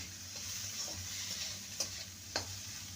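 Small diced tomato pieces frying with ginger and garlic in a pan for a spicy okra dish, a steady close sizzle with a couple of sharp stirring scrapes.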